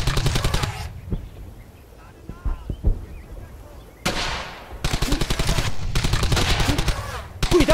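Loud bursts of World War II automatic rifle and machine gun fire in the shooter game Brothers in Arms: Hell's Highway, rapid rattling volleys near and far broken by pauses, with soldiers shouting between them.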